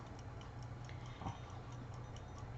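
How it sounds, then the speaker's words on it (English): A ladybug-shaped kitchen timer ticks in a fast, even rhythm, close and steady for the full length over a low background hum. "our little ladybug, and let's go ahead and set our timer"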